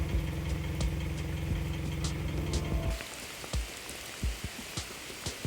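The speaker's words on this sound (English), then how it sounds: "Oh, and it's raining like crazy." Heavy rain pours down in Aachen, Germany, with scattered drips and splats standing out after a low idling engine hum fades away.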